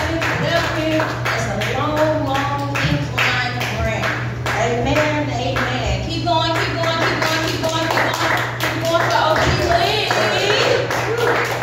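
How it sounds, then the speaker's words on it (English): Live audience at a comedy show clapping in a steady, continuous patter of many hands, close and loud, with a host shouting over it. "Make some noise right now, clap, clap, clap, put your hands together"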